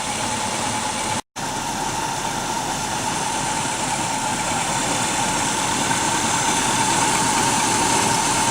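A 1978 Malibu car engine idles steadily and loudly up close, a constant low rumble with a brief dropout near the start.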